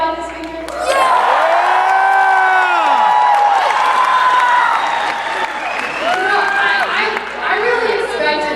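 A large convention crowd of about 5,000 people at a keynote opening cheers, whoops and applauds steadily, a broad roar of clapping and voices sustained throughout, with a presenter's amplified voice rising over it.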